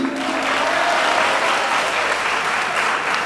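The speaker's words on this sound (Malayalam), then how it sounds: "നല്ലൊരു കൈയടി പ്ലീസ്" Sustained, dense applause from an audience, steady and fairly loud throughout with no gaps.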